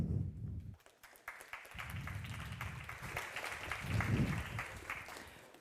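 A conference audience at a crypto event applauds a researcher taking the stage. The clapping is fairly quiet and scattered, with low rumbling room noise beneath it.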